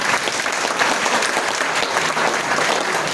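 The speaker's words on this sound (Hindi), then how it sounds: "उनके लिए ताली बजा दो।" Loud, continuous clapping from an auditorium audience, a dense even wash of hands held at full strength for the whole stretch.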